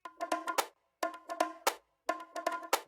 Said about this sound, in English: This is like some bongos, if I'm not mistaken.